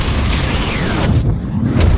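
A storm thunder boom rolls through in Warcraft 3 Reforged, loud and deep, with a rumble that swells and lingers across the whole moment and no voices over it.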